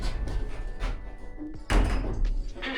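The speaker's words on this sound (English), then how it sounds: "Doors closing." Lift doors sliding shut, ending in a sharp thud partway through, with quieter mechanical noise before and a low rumble after.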